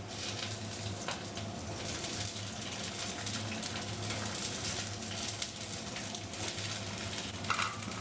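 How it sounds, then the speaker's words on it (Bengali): Eggplant and potato fry together in a pan, giving a constant soft sizzle with faint stirring clatter, quiet and steady throughout. "বেগুন আর আলুটা একসাথে ভেজে নেব"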